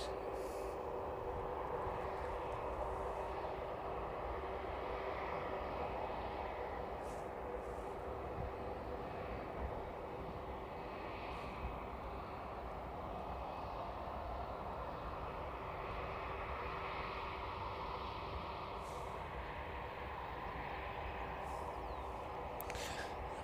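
A distant airliner rumbles steadily on approach to runway 09 at East Midlands Airport, a faint, continuous broadband roar with no speech over it.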